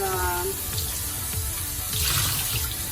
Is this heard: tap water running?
yes